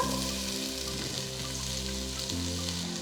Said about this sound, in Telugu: ఇప్పుడు ఈ టైంలో నేను 2 మీడియం సైజ్ ఉల్లిపాయలని సన్నగా తరిగి పెట్టుకుని అది వేస్తున్నా